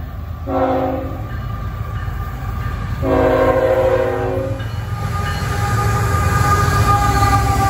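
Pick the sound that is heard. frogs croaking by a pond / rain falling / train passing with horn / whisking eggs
train passing with horn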